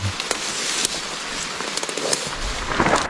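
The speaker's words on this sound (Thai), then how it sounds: "เสียงฝนบ่ครับ" Rain falling in a mountain forest during mushroom picking, a dense steady patter with scattered sharper drops hitting leaves and surfaces nearby, fairly loud and continuous with no voices.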